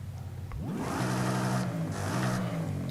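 A car engine revs up from idle and holds a throaty exhaust drone, rising and falling slightly, fairly close.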